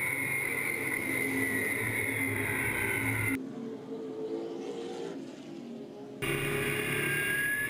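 Race cars roar through a slow restart at Angola Motorsport Speedway during the Al Cook Memorial 88, a loud continuous engine drone that briefly drops away mid-clip before the full-field howl returns.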